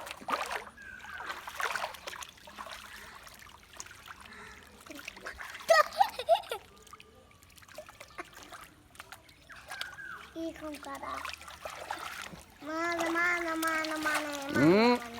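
Children splash and stir the water while bathing in a village pond, with intermittent splashes and sloshing throughout and voices talking and calling over them.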